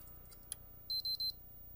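A PlayStation 3 showing the yellow light of death lets out a rapid burst of three short, high electronic beeps after a faint click, close and clear in a quiet room with no talking.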